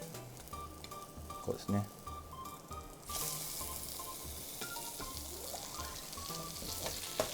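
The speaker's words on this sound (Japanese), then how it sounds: "バターで焼いてください" Onion steak fries in butter on a pan, a steady bright sizzle that surges louder partway through and holds close and continuous, with a brief voice speaking early on.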